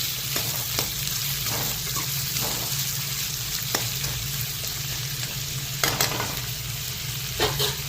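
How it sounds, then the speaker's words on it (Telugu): Sliced onions fry in a pan until brown for a chicken curry, giving a steady, close sizzle with occasional sharp stirring scrapes and clicks. "ఈ ఉల్లిపాయలు బాగా వేయించుకున్నాం. బ్రౌన్ కలర్ వచ్చేంత వరకు వేయించుకున్నాం."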